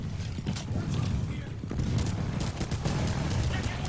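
Gunfire from a weapon in the video game Titanfall, a run of sharp rapid shots and mechanical clatter over a steady low rumble, with a voice talking faintly underneath.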